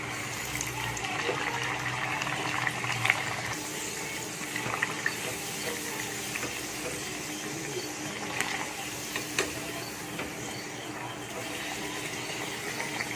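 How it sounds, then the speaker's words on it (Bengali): Puri dough drops into hot oil and fries with a continuous bubbling, hissing crackle. The sound stays fairly close and even for the whole stretch, with small pops scattered through it. "তেল আমার গরম হয়ে গেছে। এখানে আমি পুরিটা ছেড়ে দিচ্ছি।"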